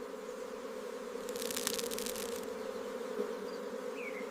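Steady, dense buzzing of many bees droning continuously in a hive, with a brief burst of sharper, closer wing noise in the middle.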